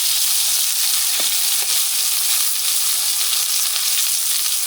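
Chicken frying in garlic butter in a pan gives a strong, continuous sizzle with occasional sharper pops, close and steady, with no voices.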